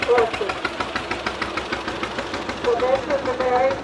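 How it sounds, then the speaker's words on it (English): An antique tractor engine chugs in a rapid, even knocking rhythm during a Platte Valley antique machinery parade, loud and close, with a voice talking over parts of it. "So this was the very first tractor that Bob Hughes bought"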